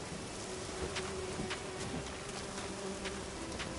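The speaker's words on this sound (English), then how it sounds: "ow, bees!" Bees buzzing around a nest in The Witcher 3: The Wild Hunt, a steady dense insect drone with no speech.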